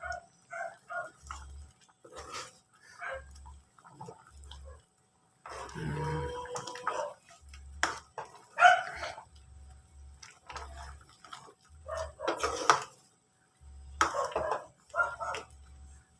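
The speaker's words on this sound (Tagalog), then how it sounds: "Maingay ang aso dito sa kapitbahay namin, sobra." A neighbor's dog barks repeatedly in short bursts at a moderate distance, with some kitchen clatter from cooking and faint background noise in between.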